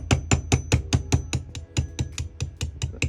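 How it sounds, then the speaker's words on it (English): A hammer lightly taps a punch against a pin on an H&R Sportsman .22LR top-break revolver, about fifteen sharp, evenly spaced metallic knocks, close and alone. "Again, punch, and again, just very lightly with the hammer."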